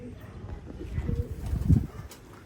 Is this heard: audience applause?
no